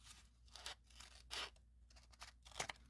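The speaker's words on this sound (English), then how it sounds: "you're going to take some handy dandy scissors and you're just going to cut" Handy scissors cut along folded blank printer paper in several crisp snipping bursts spread over a few seconds, close and fairly quiet, with no voices.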